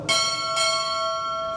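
Ship's bell struck twice at a U.S. Navy chief petty officer pinning ceremony, two bright metallic strikes about half a second apart ringing on with a long sustained tone.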